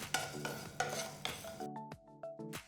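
Coriander, cumin, fennel and fenugreek seeds dry roasting in a pan, stirred with a spoon in rhythmic scraping strokes, close and clear with light clinks against the metal.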